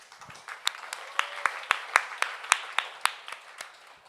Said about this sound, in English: I guess round of applause for all you for being here